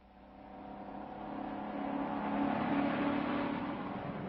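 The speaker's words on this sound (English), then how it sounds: "I'm driving a white truck marked Dollar Van and Storage, loaded with dangerous killers." A white delivery truck drives along a highway in a 1941 film, its engine a steady drone that swells gradually louder and holds, with no voices.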